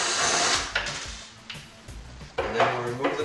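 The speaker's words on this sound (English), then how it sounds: "first thing you want to do is take off the bottom screw" Screw being removed from a cabinet hinge: a few short metallic clicks, taps and scraping sounds at close range, with gaps between them.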